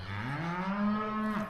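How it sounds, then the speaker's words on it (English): A cow gives one long, close, loud moo on a farm in the North Carolina mountains, calling for its calf, its tone rising and then holding steady. "Some of them can't find their babies,"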